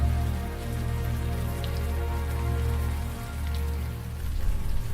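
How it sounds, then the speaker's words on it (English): Warm rain falling in the Unavowed video game, a dense, even hiss of raindrops on surfaces that continues steadily with no voices. "the warm rain is coming down"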